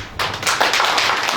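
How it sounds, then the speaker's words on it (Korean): An audience at a university student talk concert in Korea applauds, a dense burst of many hands clapping together, steady and fairly loud throughout. "학생들에게 다시 한번 박수합니다"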